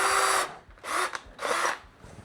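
A power drill with a 7/64 bit whirs in three short bursts, drilling a pilot hole through a pole, with brief pauses between, close and fairly loud, no talking.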